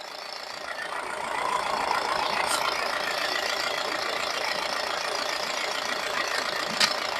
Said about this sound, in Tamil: இன்ஜின் ஆடிட்டு இருக்கு வண்டி